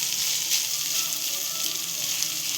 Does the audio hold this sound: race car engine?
no